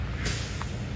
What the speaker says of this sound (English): Oops, I hear a car coming. Oops, it's the bus.